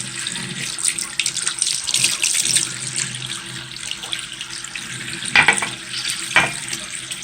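Makeup brushes, including a liner brush, rinsed under a running tap, a steady wash of water with brief louder splashes and sloshes toward the end, close by.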